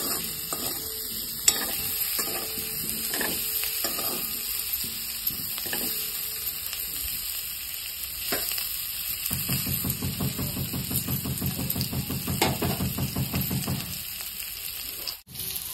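Potatoes sizzle in hot oil in a kadhai for dum aloo, a constant frying hiss with frequent spoon scrapes and taps as they are stirred, growing busier toward the end.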